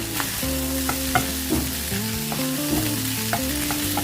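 Loud sizzling and crackling as rice is stir-fried for fried rice in a wok over high heat, grains popping, with repeated scraping strokes of a spatula in an uneven rhythm.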